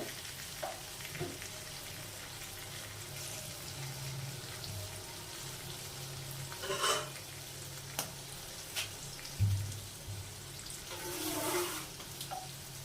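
Food for an eggplant and hilsa fish curry is stirred with salt in a pan: a faint, steady sizzle beneath a few soft scrapes and clinks of the utensil, with no voices.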